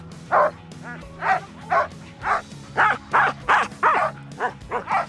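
Sled dogs in Swedish Lapland bark and yip in a steady series of about ten sharp, fairly close barks over a low background rumble.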